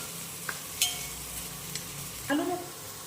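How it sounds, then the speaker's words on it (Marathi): Onion sautéing in a pan on the stove, a low steady sizzle with a few sharp scrapes and clinks as a spoon stirs it, fairly quiet and close with no talk. "कांदा जास्त परतवायचा नाही कांद्यामध्ये थोडासा कच्चापणा असतो तो जाईन इतकाच परतवायचा आहे"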